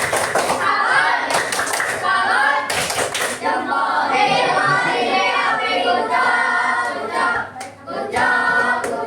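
An Indonesian class performs the rhythmic "tepuk salut" clapping routine, with bursts of many hands clapping together in patterned beats over loud children's voices and chatter.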